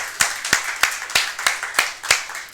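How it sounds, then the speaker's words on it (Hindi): An audience claps at a motivational talk, giving a run of evenly spaced sharp claps of moderate loudness, with no talk over them. "बहुत सुंदर, जोरदार ताली इनके लिए।"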